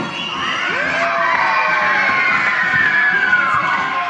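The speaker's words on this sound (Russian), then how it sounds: "А ты похлопай и покричим." A crowd of children at a circus show by Lake Issyk-Kul shouting and cheering loudly, a sustained roar of high voices with whoops rising and falling, clapping mixed in throughout.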